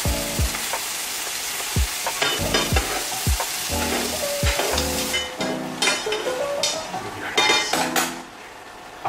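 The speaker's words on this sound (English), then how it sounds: "Now it's time to add our butter here and all our fantastic herbs, some garlic, in the way we finish to cook our steak." A T-bone steak sizzling in a pan with butter, herbs and garlic, loud and close, with a bubbling hiss broken by knocks and scrapes of a utensil against the pan.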